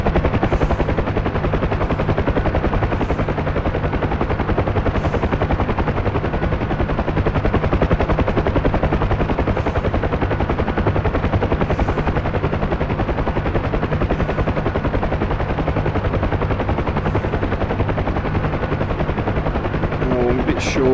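UH-1 Huey helicopter making a combat landing in the DCS flight simulator, a loud, steady rotor thump and turbine roar running throughout with faint gunfire crackling in the mix.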